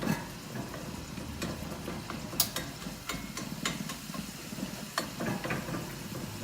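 Ground beef frying in a pan gives a steady close sizzle, with scattered scraping and clicking as the meat is stirred and broken up.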